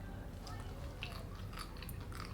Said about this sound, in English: I love that crunchy part at the end.